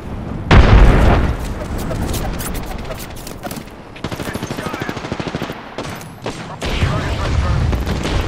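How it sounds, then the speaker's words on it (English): Grenade blast and bursts of gunfire in Apex Legends, with a loud boom near the start followed by rapid crackling shots and further explosions mixed with game noise. "Look out, grenade."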